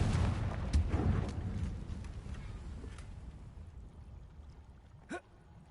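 Confringo fire spell explosion in the video game Hogwarts Legacy: a broad rumbling blast bursts at the start and slowly fades, with a sharp smaller crack near the end.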